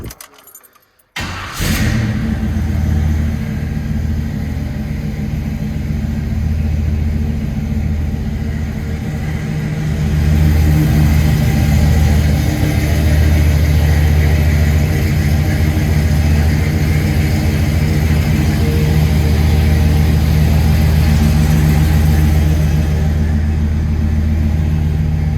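Lifted, restored Chevrolet K30 square body one-ton truck, with key jingle and engine start followed by a loud, deep exhaust rumble that idles steadily and swells partway through.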